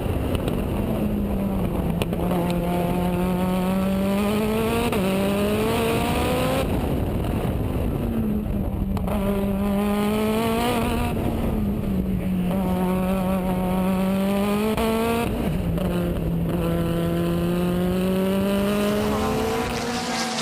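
Race car engines roaring at Bushy Park circuit in Barbados during an Easter Monday race meet, loud and continuous, with engines rising in pitch through repeated gear changes as cars pass close by.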